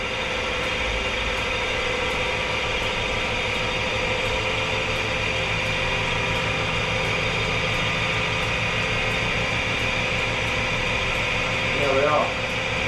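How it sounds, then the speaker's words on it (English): A crankshaft balancing machine with flywheel and front pulley for a 1.6 Crossflow Formula Ford engine hums steadily as it spins up toward about 700 RPM, a continuous mechanical drone with a faint regular pulse and a brief swell near the end. "balancer just builds the speed up"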